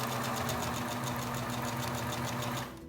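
A sewing machine runs in a steady rapid stitching rhythm for a few seconds and then drops off abruptly as the stitching stops, close and clear with no voices.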